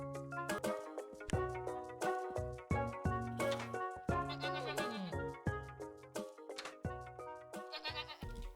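Sheep in the video game Miniland Adventure bleat repeatedly, several tonal, wavering calls in quick succession, loud and close over sparse game sounds.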